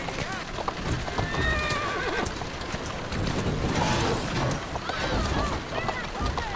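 A horse in the video game Assassin's Creed Syndicate whinnies while its hooves clip-clop in a busy, continuous rhythm, close and fairly loud, with a voice heard over the mix.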